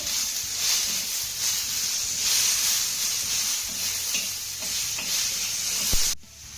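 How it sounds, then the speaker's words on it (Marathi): Chopped tomatoes sautéed in a pan hiss and sizzle steadily and fairly loudly, with soft stirring scrapes and one brief knock near the end. "आता हे टोमॅटो देखील आपल्याला मौसूद होईपर्यंत परतून घ्यायचे"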